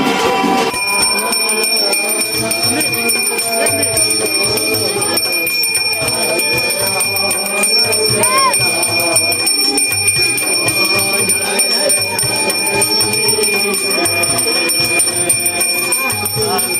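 Temple bells ring continuously during a Durga Puja procession, bright sustained metallic tones over a dense crowd-like bed of sound with possible voices mixed in.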